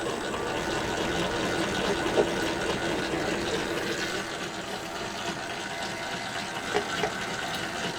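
A stand mixer kneads pizza al taglio dough at medium-high speed, a steady whirring motor hum with a faint wet slapping churn, close and continuous with no talk.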